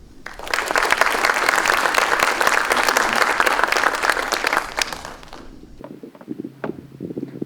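An audience claps for about five seconds to welcome a lecturer, a loud, dense applause that stops abruptly, followed by faint shuffling and footsteps in the hall.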